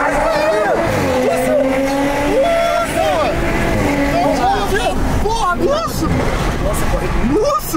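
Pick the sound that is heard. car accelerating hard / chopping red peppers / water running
car accelerating hard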